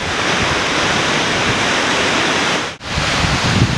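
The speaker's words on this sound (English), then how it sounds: "There's the waterfall." Taylorgill Force waterfall in the Lake District near Seathwaite roars with a steady, dense rush of falling water, loud and constant, with a brief dropout near the end.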